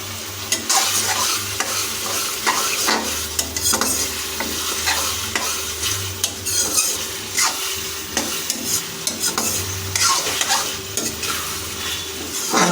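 Chicken skin and peas sautéing in a pan for ghugni, a loud continuous sizzle with constant scraping and stirring strokes of a spatula throughout.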